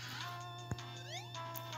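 A short synthetic meow from a pirate cat enemy in the retro game Capt'n Havoc (High Seas Havoc), set against looping electronic music and steady game sounds.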